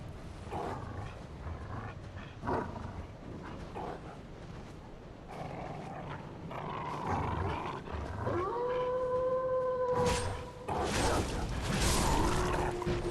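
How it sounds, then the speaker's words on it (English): Several dogs howl in the Painted World of Ariandel level of the Dark Souls 3 video game, long drawn-out tones rising over a dark ambient rumble of game sound, some distant and others nearer. "you can hear all the dogs howling"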